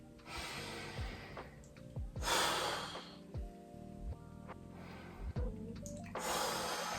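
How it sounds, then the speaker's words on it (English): Slow, deep breathing during a stretch in an at-home recovery routine, with several distinct inhales and exhales alone over a low steady background hum. "Breathing into it, remember to breathe all the time."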